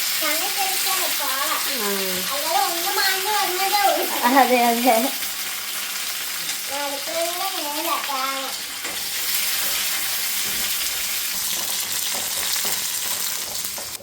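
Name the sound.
dried red chillies frying in hot oil, splattering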